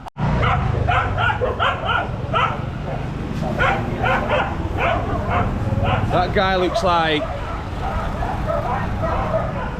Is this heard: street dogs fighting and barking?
yes